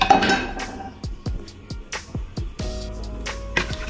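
Spoon stirring a pot of Jamaican rice and peas with pigtail, a rapid run of close metallic scrapes and clinks against the pot, loud and irregular, with no talking.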